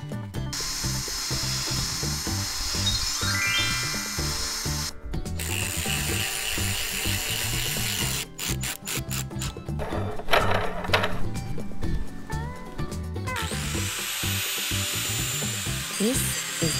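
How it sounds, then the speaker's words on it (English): A power drill fitted with a drill bit bores holes, whirring in repeated bursts with short pauses between them, loud and close, alongside occasional rubbing and tool handling noises. "This is the drill bit for drilling the holes."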